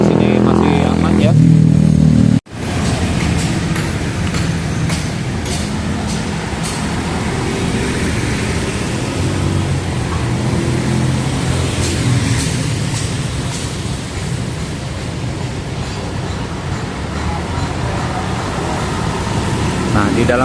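Steady motorcycle and car traffic rolls past on a street beside Gedung Sate in Bandung, a continuous close engine rumble and hum after a brief quiet opening.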